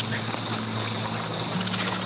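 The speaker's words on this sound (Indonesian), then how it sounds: "Sesekali terdengar bunyi jangkrik dan serangga malam lainnya." Crickets and other night insects chirp in a dusky village setting, a loud continuous high trilling pulsing in regular waves over a low steady background hum, close by and without voices.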